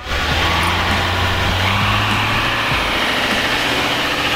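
A Duramax diesel pickup truck engine holds a loud, steady high rev during a burnout, its droning roar close and continuous with no breaks.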